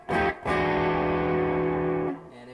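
Electric guitar through an amp with a little added gain playing a short blues turnaround lick, two quick picked notes and then a ringing sustained chord that fades out, close and clear, without talking.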